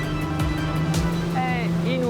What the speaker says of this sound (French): Dès la première accélération, la puissance est évidente.